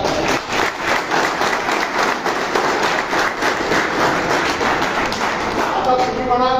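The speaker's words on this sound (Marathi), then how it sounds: "एकदा टाळ्यांचा कडकडाट असावा." Loud, sustained applause from an audience at a meeting in Nashik, many hands clapping rapidly and close, with a few thumps mixed in and a voice entering near the end.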